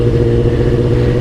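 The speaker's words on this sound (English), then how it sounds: "Give him a little rev, see if he's around." A 2018 Kawasaki ZX10RR motorcycle engine runs loud and close, holding a steady, throaty roar that shows no sharp rise or drop.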